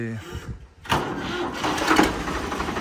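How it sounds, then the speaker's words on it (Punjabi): A Farmtrac 60 tractor engine runs with a steady, rough mechanical drone that starts up loudly after a brief quiet dip and stays close and continuous. "ਆਵਾਜ਼ ਬੂ ਚੈੱਕ ਕਰੋ ਟਰੈਕਟਰ ਦੀ ਬਹੁਤ ਸੋਹਣੀ ਆਵਾਜ਼ ਆ"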